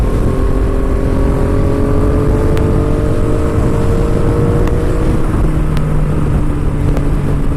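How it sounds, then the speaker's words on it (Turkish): Motorcycle riding ahead in traffic on a US road, its engine drone blending with the steady close road roar and wind noise of the car following, with a faint rising whine, no voices. "Önde bir tane motosikletli gidiyor."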